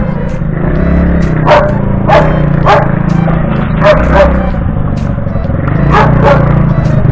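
A dog barks repeatedly near an underpass, sharp irregular yaps scattered through a steady roar of traffic and street noise.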